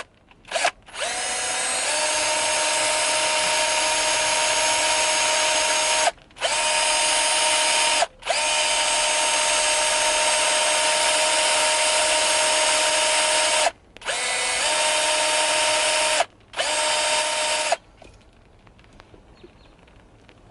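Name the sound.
power drill drilling with a drill bit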